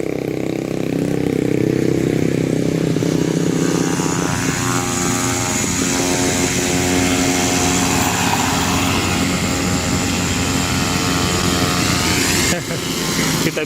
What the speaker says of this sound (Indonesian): Ini ada pesawat kecil.